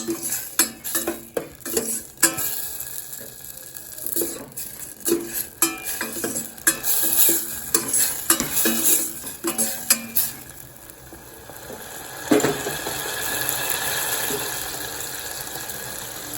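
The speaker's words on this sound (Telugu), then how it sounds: "గార్లిక్ ఇలా ఫ్రై అయిన తర్వాత టమాటోస్ యాడ్ చేసేసుకుందాం. ఇది యాడ్ చేసుకుని ఇది కూడా ఫ్రై చేసుకోవాలి." Tomatoes fry with garlic in a pan for a street-style tomato and egg soup, with a utensil repeatedly clattering and scraping as it stirs over a soft sizzle that turns into a steadier hiss near the end.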